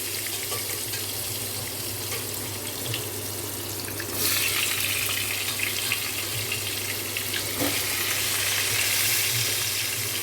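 Pointed gourd frying in oil with salt and turmeric in a home kitchen pan: a steady soft sizzle that grows louder and more crackly partway through, with no talk.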